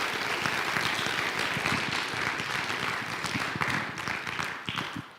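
Applause from the audience at a scout troop's spring Court of Honor fills the room, a sustained and even wash of many hands that tapers off at the end.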